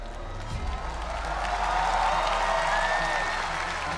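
Broad applause from a church congregation swells steadily, a dense continuous clapping wash that builds and holds fairly loud, with crowd murmur underneath.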